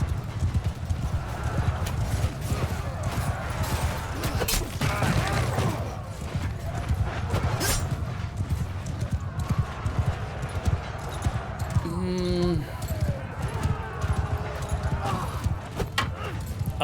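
Horses gallop across a battlefield in the video game Mount & Blade II Bannerlord, a dense steady clip-clop of many hooves with a neigh rising briefly above the rumble and the clatter of battle.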